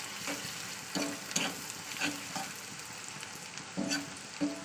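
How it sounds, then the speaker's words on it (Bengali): Onion and garlic fry in a pan with a quiet, steady sizzle, broken by intermittent scraping strokes as a spatula stirs them every second or so. "একটু স্টে করলাম যাতে পেঁয়াজটা আমার ভাজা ভাজা হয়ে যায়"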